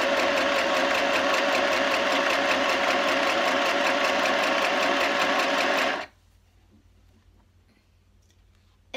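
A sewing machine stitches fabric for a cushion, a loud steady rapid clatter running continuously for about six seconds before stopping abruptly into near silence.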